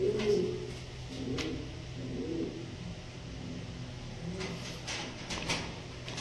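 Fancy pigeons in a village breeding loft, including white Pomeranian pouters, give low, soft cooing that recurs through the whole stretch over a steady background hum, with a few brief knocks and rustles and no talking.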